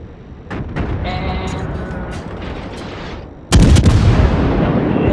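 Ship guns fire at the Bismarck in World of Warships: scattered booming shots, then a sudden, much louder heavy salvo that keeps rumbling to the end.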